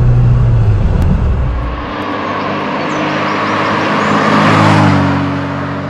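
A 1986 Opel Manta Berlinetta driving on the road, heard as a loud steady engine and tyre drone that eases off and then swells again, with no talk over it.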